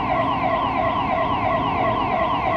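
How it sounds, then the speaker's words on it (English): A car alarm on a quiet holiday city street blares a continuous electronic siren with rapidly repeating sweeping tones, steady and prominent over faint traffic hum, with no talking. "then listen to this car alarm"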